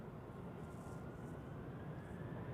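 British Airways City Flyer airliner taking off at Zurich Airport in crosswinds, a faint distant broadband engine roar holding steady throughout without talk.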